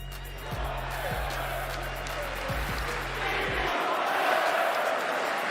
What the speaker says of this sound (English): Listen to the Philly crowd here at the line